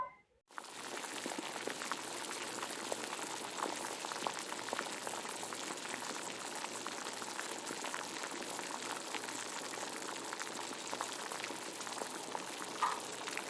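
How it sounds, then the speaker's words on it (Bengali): Chhatu tikiya fry in hot refined oil, giving off a steady, dense sizzle that starts abruptly and holds an even, loud crackle throughout, with no talking. "তেল গরম হয়ে গেছে, আস্তে আস্তে আমি ছেড়ে দেবো।"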